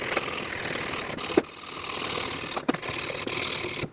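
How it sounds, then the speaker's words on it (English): A wire brush scrubs rust off the front brake caliper bracket of a 2014-2018 GMC Terrain, giving a steady, close, harsh rasping that runs nearly the whole time, with a few brief breaks and no talking. "a wire brush should do the trick"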